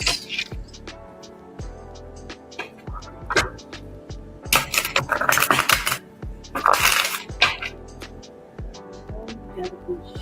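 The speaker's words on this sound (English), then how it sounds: "We'll shuffle a couple of more times." Tarot cards are shuffled in a series of quick riffling bursts and soft taps, loud and close, with brief pauses between shuffles.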